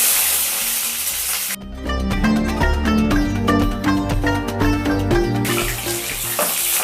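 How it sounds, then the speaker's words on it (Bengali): Brinjal pieces fry in hot oil in a kadai with a loud, steady sizzle that swells abruptly after a quieter start, carrying crackling bursts and scraping stir sounds throughout. "ওই তেলেই দিয়ে দেব বেগুন।"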